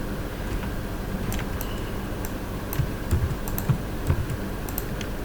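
Someone types a product name into a cashier application on a computer keyboard, producing a steady run of light, quick key clicks with a few heavier taps, close by, with no talking.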